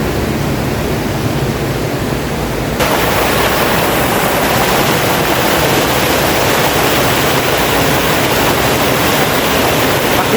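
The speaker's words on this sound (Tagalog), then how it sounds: "yung nagaslas ng tubig, oh. Napakaganda." Water rushes loudly and continuously beneath the Malagonlong Bridge in Tayabas, Quezon, a dense roaring wash heard up close that grows fuller after a few seconds, with no talking.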